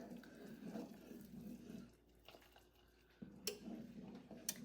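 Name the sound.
pouring water into apple pie filling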